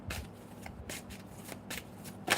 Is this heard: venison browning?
no